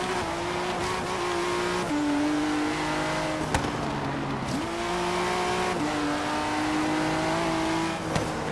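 Ferrari race cars roar through Forza Horizon 3 at high revs, engines climbing and dropping with gear shifts, and tires briefly squeal, loud and continuous with no talking.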